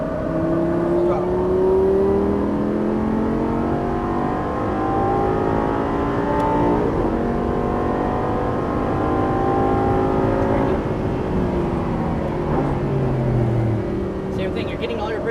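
A Lamborghini Gallardo Superleggera LP570-4 on a driving course accelerates at full throttle, its loud engine note rising and holding in layered tones throughout, with a brief dip before revving again.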